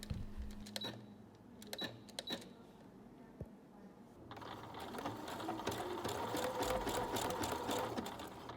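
A sewing machine runs a decorative stitch on fabric. A few sharp mechanical clicks and ratchets come first, then the motor starts and whirs in a steady, close, rapid stitching burr.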